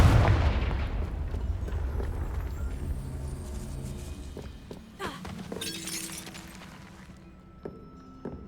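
A Confringo blasting spell explodes in the video game Hogwarts Legacy with a loud, booming burst up close that rings and decays, followed by scattered shattering debris and smaller impacts.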